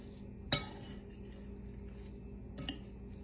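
A spoon in a bowl of chicken souvlaki mixture gives two separate metallic clinks a couple of seconds apart, set against a quiet kitchen background.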